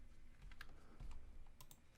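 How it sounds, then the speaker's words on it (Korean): Key presses on a computer keyboard, the Windows and Tab keys hit in a quick pair of soft, close clicks with a few lighter taps around them, in a quiet room. "윈도우 탭을 눌러서"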